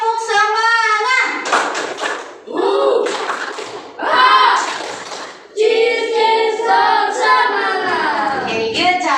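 A classroom group performs a rhythmic 'tepuk semangat' spirit clap chant, with bursts of clapping and chanted voices in short phrases, near and loud, a teacher's voice leading between sections.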